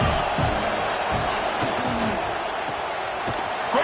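Stadium crowd roaring at a Kentucky versus Auburn college football game, a steady wash of cheering and whoops from thousands of fans, with a few scattered thuds on top.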